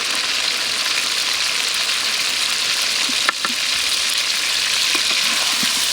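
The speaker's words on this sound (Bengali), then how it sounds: "রান্না বসানো হয়ে গেছে, আলুগুলো ভেজে নিতেছে।" Potatoes fry in a pan with a steady, dense sizzle that holds nearly level throughout, close and fairly loud, with a few faint clinks and stirring sounds partway through.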